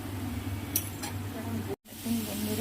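Soft, steady sizzling of vegetables frying in oil, with a couple of brief clinks of a utensil against the pan.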